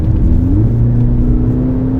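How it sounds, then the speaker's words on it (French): A 2024 Mercedes C63S AMG engine pulls steadily and loudly from close by, a continuous drone with a rising tone as it builds speed and then settles toward a downshift, with no voices. "Là, on sent que le moteur a besoin de rétrograder"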